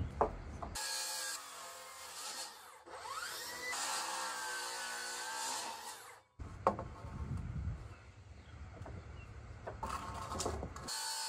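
Circular saw cutting through a 2x4 while building a wood fence: two long, loud whining cuts with the blade spinning up and biting into the wood, broken by a short pause and ending with a brief burst of motor noise.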